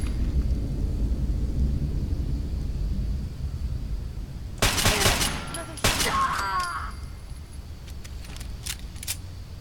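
Two sharp, loud blasts from a makeshift pipe shotgun in the video game Fallout 4, about a second apart, the second trailing a brief metallic rattle, over a low steady background hum.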